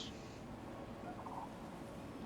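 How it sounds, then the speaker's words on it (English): A dog toy with an odd squeaker gives a faint, gobbling, turkey-like warble rather than a typical high squeak, heard briefly and quietly. "it's a weird squeaker for a dog toy"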